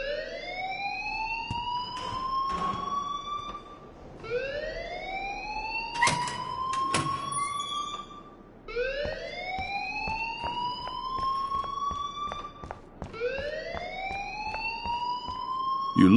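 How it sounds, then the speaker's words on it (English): An alarm in the video game Life is Strange wails in repeated rising siren sweeps, four long whoops in a steady cycle, loud and alone, with some clanging in the background. "please turn off that alarm since that's your job"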